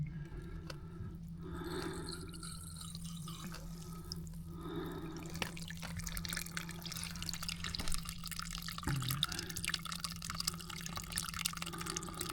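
Water drains steadily from an opened service valve on an off-grid home water system being winterized, giving a continuous trickling, dripping flow with low hum beneath, moderately near and unbroken throughout.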